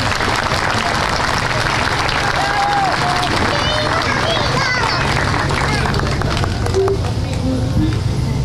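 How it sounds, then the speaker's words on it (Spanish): Sustained applause from a concert audience at a gala for a former students' school band, dense steady clapping with crowd murmur and a few voices mixed in throughout. "aplausos"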